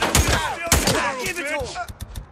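Gunfire in Days Gone comes as a few sharp, loud shots in quick succession, heard up close. Shouting voices and other game noise surround them, and a few fainter pops trail off at the end.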